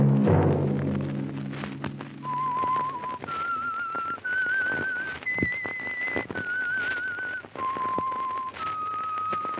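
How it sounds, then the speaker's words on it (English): The Whistler's signature whistle from the old-time radio show: a series of clear, steady whistled notes stepping up and down in a slow melody, over a faint musical backdrop with soft thumps. "Let that whistle be your signal for the Signal Oil program, The Whistler"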